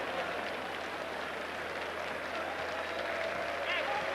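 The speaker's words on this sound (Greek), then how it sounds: "Χειροκροτήματα, ακούτε," Basketball fans in the crowded Alexandreio arena applaud during a 1991 Champions Cup game between Aris and Maccabi Tel Aviv, a continuous distant wash of clapping and crowd noise with a commentator talking over it.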